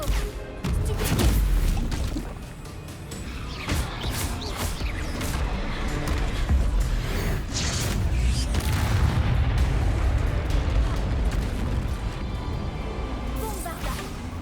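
Spell explosions from the video game Hogwarts Legacy boom and crash repeatedly over dense, continuous game noise, loud and close, with a voice casting spells in between.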